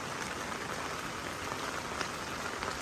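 Heavy rain falls steadily during a storm, a dense continuous hiss of drops at close range with no pauses and no voices.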